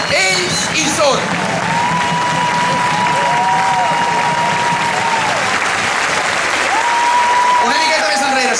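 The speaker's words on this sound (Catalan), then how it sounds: "Un fort aplaudiment pel doctor Brogi." Outdoor crowd at a memorial gathering applauding doctors, continuous broad clapping with a sustained whistle-like tone over it and voices mixed in.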